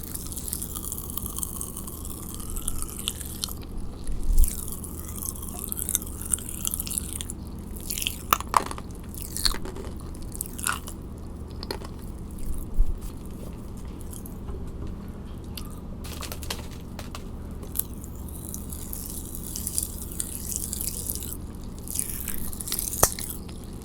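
Close, crunchy chewing of blue Pop Rocks candy, with irregular crackles and snaps over soft mouth sounds, quiet between louder bites.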